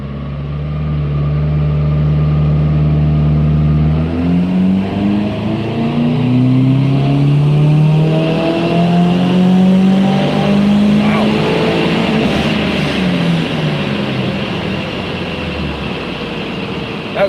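Subaru WRX turbocharged engine on a dyno pulling through a simulated third-gear run, a loud, steady drone that climbs smoothly in pitch over many seconds as revs build, then eases off near the end.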